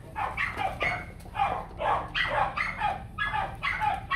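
Several white Bac Ha puppies with bobbed tails bark and yip insistently while begging for food, a rapid run of high, close barks repeating about twice a second.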